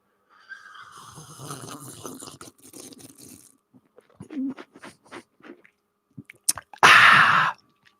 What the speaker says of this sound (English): It's just the sound of me drinking